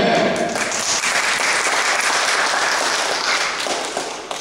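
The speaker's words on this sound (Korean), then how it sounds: "우리 하나님께서 크게 많이 크게 박수 한번 칩시다." A church congregation applauds during a Sunday service, with dense, sustained clapping from many hands that fills the hall and slowly thins toward the end.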